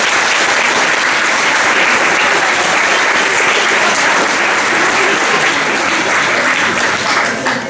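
Sustained audience applause at a school graduation ceremony in honour of a retiring teacher, loud and steady throughout with dense clapping from a large crowd, tapering slightly at the end.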